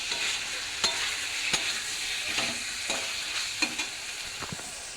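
Pre-fried potato pieces being stirred in a pan of hot oil with spices, steady sizzling hiss under repeated scraping strokes of a spatula, close and moderately quiet, with no talk.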